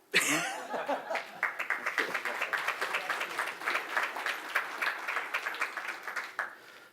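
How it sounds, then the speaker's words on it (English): Applause from the audience at a National Space Society awards dinner: a sharp burst of many hands clapping that settles into a steady, even patter, a few chuckles mixed in, then stops abruptly. "Clap, clap, clap."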